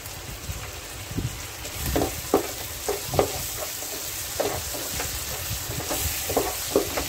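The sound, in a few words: onion with ginger garlic paste sautéing in pan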